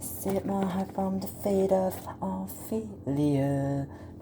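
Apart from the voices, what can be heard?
None of the usual background noises is heard.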